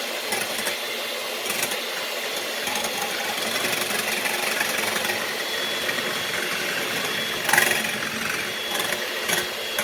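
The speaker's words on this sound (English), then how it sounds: "And now first we will mix the egg whites to the point where it starts becoming very fluffy." An electric hand mixer whips egg whites for a chocolate cake, giving a steady, close mechanical whir that runs for the full length with no talking and only a brief louder burst near the end.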